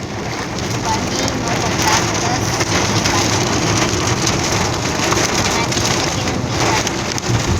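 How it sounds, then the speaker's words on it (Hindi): Heavy rain pours down in Delhi in a loud, dense, unbroken hiss of drops drumming on surfaces nearby. "कितनी तेज़ बारिश शुरू हो गई यहाँ भी।"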